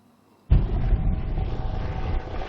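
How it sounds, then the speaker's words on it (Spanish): A Guardia Civil helicopter flies overhead on a search. Its steady rotor and engine roar starts abruptly and holds loud and constant, with no talking. "Es el sonido del helicóptero de la Guardia Civil que continúa buscando nuevas pistas"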